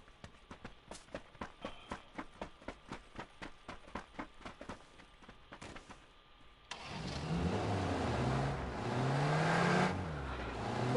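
A vehicle in the PUBG video game cranks with a rapid series of evenly spaced starter clicks, then its engine catches and settles into a loud, rumbling idle that swells slightly toward the end.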